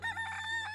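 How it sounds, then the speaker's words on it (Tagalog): A rooster crows close by among clucking chickens in a rural Filipino village, one sustained, strident call lasting under a second over a low steady hum, with no talking. "Mga manok."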